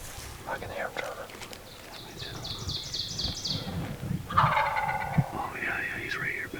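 Wild turkey gobbling during a Missouri spring hunt, with bursts of rapid gobbles at mid distance over a low drumming rumble, while hunters whisper nearby.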